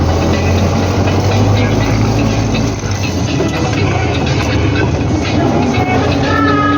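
An old tractor-mounted sprayer with a 2-ton tank, used for crop protection on grain fields, runs its engine with a loud, steady diesel rumble as it pulls away, broad and continuous throughout.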